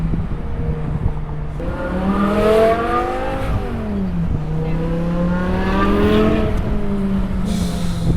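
A BMW M4 G82 with a six-speed manual revs hard, its engine note climbing through several gears in rising sweeps with brief dips at each shift, loud and close.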